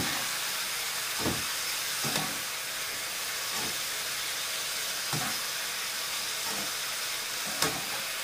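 Food browning in a pan with honey and soy sauce, a constant hissing sizzle close up, with several soft scraping stirs at irregular intervals.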